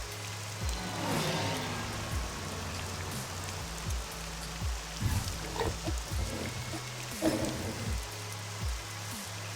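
Steady rain pattering on surfaces in the Morrowind video game, a continuous wash of drops with a few heavier splashes and low thuds, moderately loud and heard alone.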